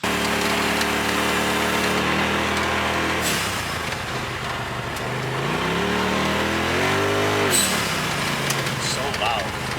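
A Polaris RZR Pro XP with an RPM blow off valve drives laps, its engine revving up and down through shifts with whooshing releases, loud and close as people talk over it.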